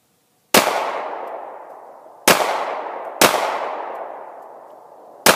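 Loud, close gunshots from a Canik TP9SF Elite S 9mm pistol at a shooting range, three sharp reports, each followed by a long ringing decay, with no voices.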